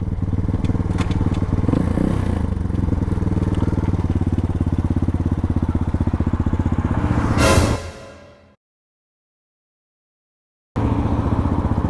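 An Apollo 250 motorcycle being ridden, its engine running loud and steady, with a brief rising whine before the sound cuts out to silence for a couple of seconds and then the engine returns.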